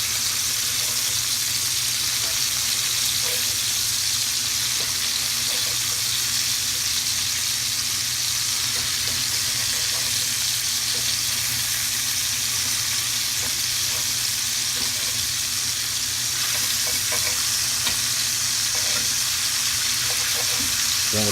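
Steak with onions and cherry peppers sizzles loudly and steadily in a cast iron pan, a dense, continuous frying hiss with occasional stirring and scraping underneath.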